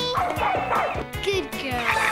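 A battery-operated toy puppy in a 1990s TV commercial yips and barks in a quick run of short, bright barks, mixed with speech and jingle-like vocals.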